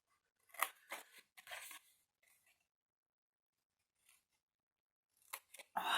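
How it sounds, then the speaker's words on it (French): Scissors cut straight lines through paper or cardstock for a pivoting ink storage tower, a handful of crisp close snips in short bursts, separated by a long quiet gap before a few final cuts. "je coupe tout droit, et je coupe tout droit."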